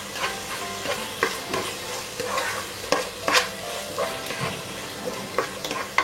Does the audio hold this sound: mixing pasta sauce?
yes